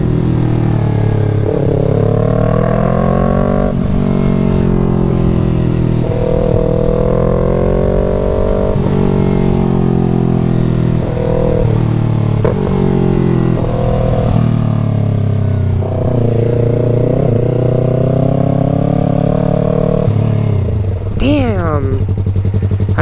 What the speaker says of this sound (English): Bike needs to ride on the highway.